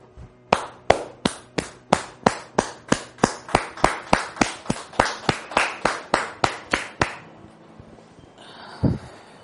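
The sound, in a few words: audience applause and cheers welcoming a guest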